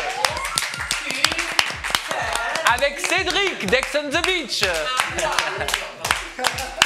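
A television talk show's studio audience claps in a steady run of crisp, closely spaced claps while a host speaks over them.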